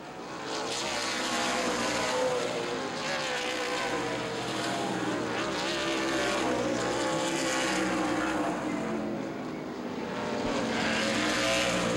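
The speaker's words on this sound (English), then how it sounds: "Five to go this time by for the number 18 of Jeff Gannis. Down the front stretch" Race cars roar down the front stretch at Baer Field Speedway during a 100-lap race, a loud, continuous engine wash of several cars passing close with slight swells and dips, no talk over it.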